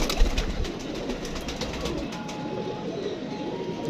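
Pigeons coo softly in low, repeated murmurs amid light fluttering and rustling nearby.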